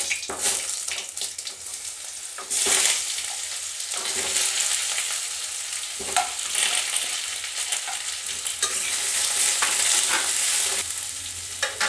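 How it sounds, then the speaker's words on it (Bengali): Jujube and apple frying in a pan of lightly tempered oil for a sweet-sour chutney, a steady sizzle broken by scraping spatula stirs and bursts of hissing, close and continuous without talk. "এখন আমি দেখুন বন্ধুরা কুল আর আপেলটা দিয়ে দেবো।"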